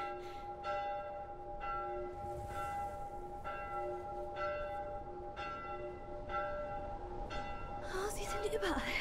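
Church bells ring in The Last of Us, tolling in a steady repeating rhythm with a sustained ringing hum underneath, and near the end a voice speaks briefly over them.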